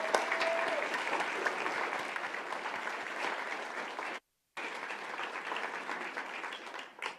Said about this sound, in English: would you stand or wave so we can give you a huge round of applause?